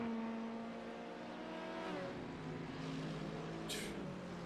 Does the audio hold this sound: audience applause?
no